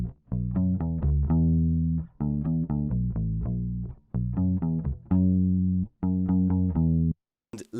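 Bass guitar through a cassette tape plugin effect: a bouncy line of short, plucked notes in clear rhythmic phrases with brief gaps, loud and close.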